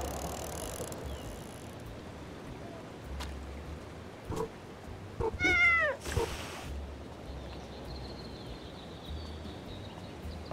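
A cat meows in the video game Little Kitty Big City, a short run of rising, curling calls in the middle, set over steady ambient background sound from the game.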